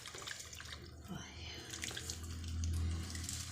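Oil is poured into mango pickle masala, making a faint, close, liquid trickle that swells slightly toward the end, with a soft murmur of voice in the background.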